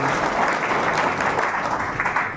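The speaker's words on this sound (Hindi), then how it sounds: "हमारे सारे अचीवर के लिए एक ज़बरदस्त ताली होनी चाहिए साथियों" Loud, dense applause from a seminar audience cheering achievers, continuous crowd clapping at full strength throughout.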